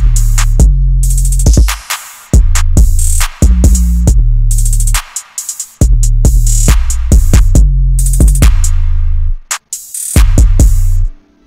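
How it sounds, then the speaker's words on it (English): Programmed drum pattern for a beat built in FL Studio, with heavy sub-bass kicks and bright hi-hat and snare hits looping in a steady rhythm, punctuated by brief dropouts, loud and up front with no talking. "And this drum pattern"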